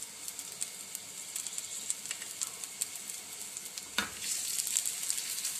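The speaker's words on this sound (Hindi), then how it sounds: "तकरीबन 4 से 5 खाने के चम्मच में ऑयल डाल रही हूँ। अब हम इसमें पहले प्याज शामिल करेंगे।" Onions frying in 4–5 tablespoons of hot oil for restaurant-style masala okra, a steady close sizzle with scattered crackles and a sharp pop near the end, swelling slightly louder afterward.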